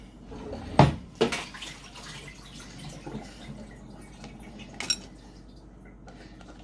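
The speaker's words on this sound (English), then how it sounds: "The bowl just fell that had water in it in my sink, so that's what that noise was." A bowl holding water drops into a kitchen sink, giving a sharp clatter followed by a second knock and a later smaller clink, with faint splashing and dripping in a quiet room.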